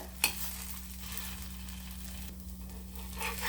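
A South Indian breakfast dish frying in oil on a pan, giving a steady, faint sizzle that runs throughout, with a single soft knock near the start and no talk.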